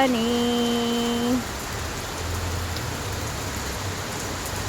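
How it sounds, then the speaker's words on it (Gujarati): Heavy unseasonal rain pours down in Mumbai as a dense, even hiss. A brief tonal sound rings out at the very start, then the rain carries on alone. "મુંબઈનો વરસાદ કમોસમી તમને બતાવી રહી છું."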